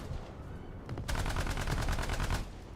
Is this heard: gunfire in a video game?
yes